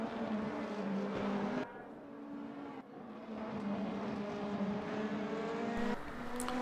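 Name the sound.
race cars driving in a racing video game race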